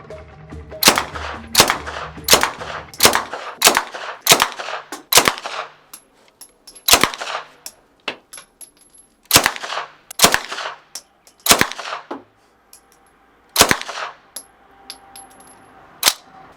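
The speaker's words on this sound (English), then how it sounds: "Shoots from the open bolt, like this." Loud, sharp gunshots from an open-bolt firearm ring out at an indoor shooting range in Prague, fired as single shots and quick pairs with short pauses between and a faint metallic ring after each report.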